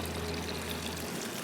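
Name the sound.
water being poured into dipping sauce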